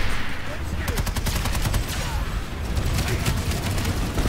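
Dense, continuous gunfire in a shooter video game: overlapping rapid bursts of automatic fire and impacts without a break, loud and busy throughout.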